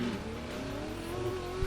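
A pickup truck races on a dirt canyon course in a driving game, its engine revving hard with a rising whine and tires scrabbling as it spins through a 180, loud and close without talk.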